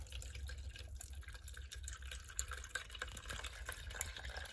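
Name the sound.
water draining from GE washing machine into a cup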